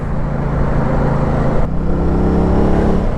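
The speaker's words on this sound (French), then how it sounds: "elle fait un super beau bruit pour une machine complètement d'origine comme ça. Un bruit très caverneux, très profond" A stock Aprilia RS660 A2 motorcycle's engine drones loud and close on a road between trucks, a deep cavernous note that holds steady, briefly dips, then settles into a sustained hum.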